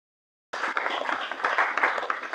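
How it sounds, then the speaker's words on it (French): Applause breaks out at a thanksgiving mass in Notre-Dame cathedral after half a second of silence, a dense, steady patter of many hands clapping that swells slightly toward the end. "Applaudissements."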